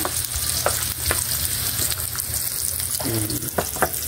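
Chopped onion and ginger sizzle and crackle steadily in a hot pan for a spicy native chicken dish, with a few sharper spatula scrapes and stirring clinks over a continuous frying hiss.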